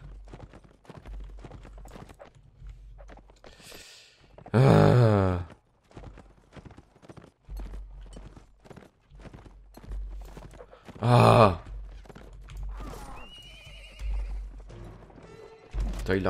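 Horses in the Mount and Blade Warband video game whinny loudly twice, each a long, bright neigh, over a steady run of clip-clopping hooves throughout.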